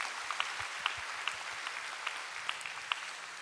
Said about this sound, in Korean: 우리 한번 박수로 환영하시고요.